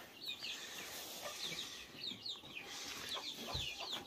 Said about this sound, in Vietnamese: Đuổi hết gà ra đi.